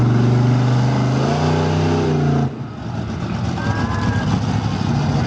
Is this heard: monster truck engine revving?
yes